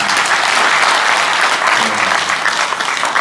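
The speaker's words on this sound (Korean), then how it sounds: "우리 서로를 위해서 박수 한번 보내주십시오" Loud, sustained applause from a packed audience at a book launch event in Daegu fills the whole stretch, dense and steady from start to finish.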